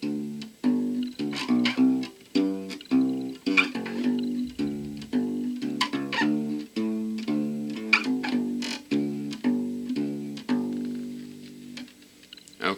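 Bluegrass bass guitar lesson playing a steady root-fifth pattern, bright plucked notes walking in an even four-beat rhythm, upfront and continuous with no talk.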